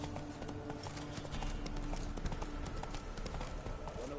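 Roach, a horse in a PS4 video game, gallops with a steady, continuous clip-clop of hoofbeats over a dense bed of game ambience.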